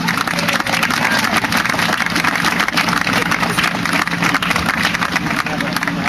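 Sustained applause from a crowd at a Project GUR gathering, dense and steady throughout, loud and close, with no pauses or talking.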